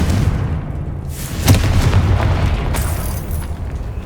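A Confringo blast spell in Hogwarts Legacy going off as a deep, loud boom with a sharp burst and a rumbling tail, set against steady low background rumble, no voices heard.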